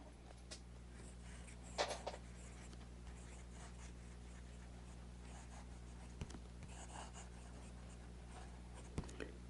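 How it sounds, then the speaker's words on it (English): A Jinhao X750 fountain pen writes on Rhodia dot pad paper, making faint, soft scratches in brief irregular strokes over a steady low hum, close and quiet with no voices. "let's get started with a writing sample on some Rhodia dot pad"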